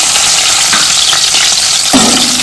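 Chopped onion drops into hot oil for a Goan crab curry and sizzles loudly up close, a dense, steady frying hiss with a sharper burst near the end.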